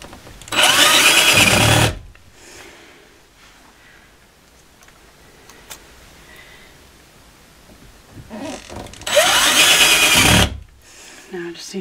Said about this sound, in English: I put in one screw at the top hinge and one screw at the bottom hinge